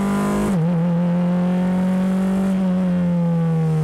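Formula race car engine screaming at high revs as it accelerates on a circuit, a loud sustained whine that dips briefly at a gear change then holds steady, close and continuous with no talk.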